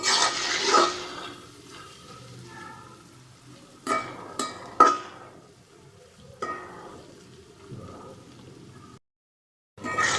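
Eggs break up and sizzle in a frying pan as they are stirred for a spicy scramble. Scraping clatters and bursts of frying come in irregular waves, close and clear, with a short silent gap near the end.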